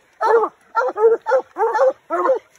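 A coonhound on a raccoon hunt in Tennessee gives five close, loud, evenly spaced barks, each a short gruff burst separated by brief silences.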